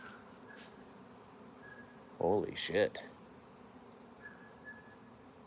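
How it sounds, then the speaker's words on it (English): A swarm of bees drones steadily in the background as a voice suddenly exclaims loudly partway through. "I hear a massive swarm of bees"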